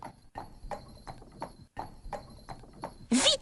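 A horse's hooves clip-clop in a steady walking rhythm, fairly close, with a short louder burst at the end.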